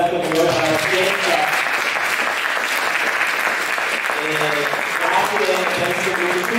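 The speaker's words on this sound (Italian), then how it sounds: "vi do un applauso" Sustained applause from a seated audience at a film presentation and debate, steady and dense throughout with a few voices speaking underneath.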